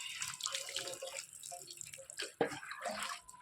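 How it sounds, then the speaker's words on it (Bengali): Water poured from a tap or mug over a pet dog named Dodo during a bath, soft splashing and trickling at close range, fairly quiet with a brief louder splash near the end. "প্রথমে গায়ে একটু জল দেবো"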